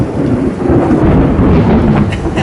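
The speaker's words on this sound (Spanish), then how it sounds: "¡Ay, ya está tronando!" Loud, rumbling thunder rolls steadily through the whole moment, a deep continuous roar with rain hissing underneath and no voices.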